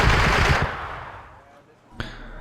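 BMP cannon fire in the video game Wargame: European Escalation: a loud burst of rapid shots that fades into a lingering rumble, then one sharp shot near the end.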